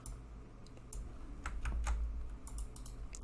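Keys clack on a computer keyboard as a command is typed into a terminal while setting up an Ubuntu server, a close run of irregular quick taps with a low hum underneath and no voices.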